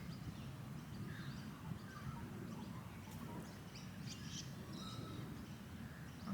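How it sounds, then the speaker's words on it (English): Birds sing outdoors in scattered short chirps and calls, faint and distant over a quiet low rumble of background noise. "beautiful note of the birds singing"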